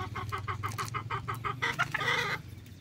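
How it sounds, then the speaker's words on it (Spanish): A barred hen clucks on a farm in a steady, rhythmic series of close, loud calls that run together into a longer cackle before stopping. "Ahí está la famosa gallina bataraza."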